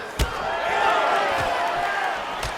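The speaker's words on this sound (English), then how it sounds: "You hear this crowd just eating out of his hand, oohing and on every time he advances." An arena crowd at a UFC fight between Anderson Silva and Israel Adesanya rises in a sustained ooh, a swelling murmur of many voices over a few sharp thuds from the cage.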